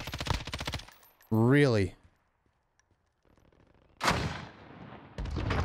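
Gunfire in the video game Warzone: a quick burst of shots near the start, then a louder single shot with a ringing tail later, with a player's voice talking in between.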